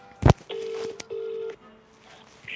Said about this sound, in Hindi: so let's call Gopali